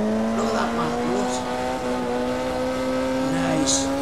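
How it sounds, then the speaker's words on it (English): A Formula Junior race car in Automobilista 2 runs at high revs, its engine a loud, steady tonal scream held throughout, with brief tire squeal near the end. "screaming that engine"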